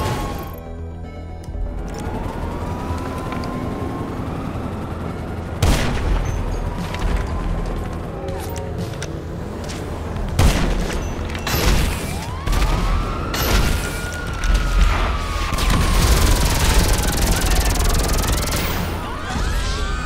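Explosive sniper rifle rounds go off in GTA Online. Several heavy booming blasts and crashes are spread unevenly through a busy stretch of game noise, with a few whooshing sweeps mixed in.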